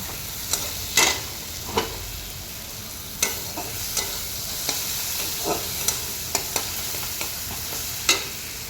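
Fried chili and tomatoes sizzling in a pan for a Bengali mashed eggplant dish, steady frying hiss with sharp scraping clicks as the mixture is stirred at a loose, irregular pace.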